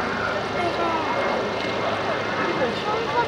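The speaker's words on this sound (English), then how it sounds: "The famous Vulcan howl. No other aeroplane makes that extraordinary sound." A distant Avro Vulcan XH558 bomber gives its sustained, wavering howl at an air show, a broad roaring drone that stays steady throughout.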